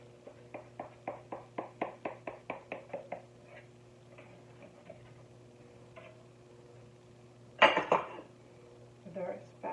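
Metal spatula knocking and scraping against a cake pan while lifting soft, steamy apple cake, a quick run of about a dozen light clinks followed by a louder scrape near the end, close and fairly faint.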